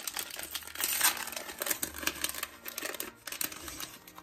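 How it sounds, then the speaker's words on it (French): Small advent calendar package being opened by hand, its wrapper crinkling and rustling in quick, close, fairly quiet bursts with no talking. "on va ouvrir le petit paquet ici"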